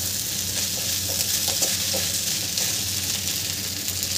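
Sabudana khichdi sizzles and fries in a pan over a low-to-medium gas flame, with steady hissing and faint scraping stirs running throughout, close and fairly loud, no talking.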